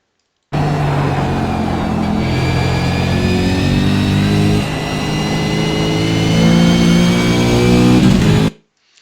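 Race car engine in a Le Mans–style racing video game, loud and continuous, revving with rising harmonic pitch sweeps as it accelerates and shifts through a corner sequence, no talking.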